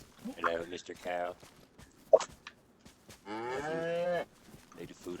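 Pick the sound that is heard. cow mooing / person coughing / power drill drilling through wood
cow mooing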